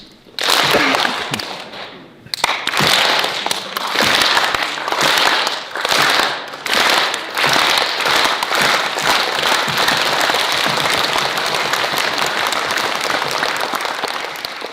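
A theatre audience at a special-needs theatre day in Paide, Estonia, applauds a music theatre troupe, loud dense clapping that starts after a short pause and swells into sustained rhythmic waves lasting many seconds.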